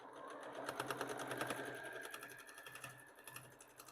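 A sewing machine stitches a Tula Pink pencil case, its needle running in a fast, steady, close-up patter that holds evenly for several seconds.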